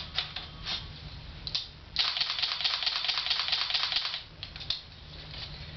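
A Canon 30D camera fires its shutter in continuous high-speed bursts, a fast rattling run of clicks that swells into one long dense stretch mid-clip, close and fairly loud, with no talking.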